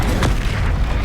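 A single deep, booming spell explosion from Confringo or Bombarda in the wizarding game Hogwarts Legacy, loud and close with a low rumbling tail.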